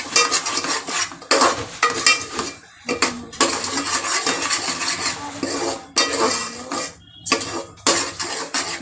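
Ground onion-coconut masala being sautéed in a pan, with repeated loud scraping and clanking of a spoon against metal over a low sizzle, stirred in rhythmic bursts with short pauses.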